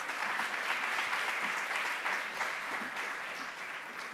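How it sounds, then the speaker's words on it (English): A large audience gives a steady, sustained round of applause to welcome a speaker to the stage at an event on Bharatiyar's education philosophy, full and even, with no voices over it. "With a huge round of applause, ladies and gentlemen, Mr. Niranjan Bharati."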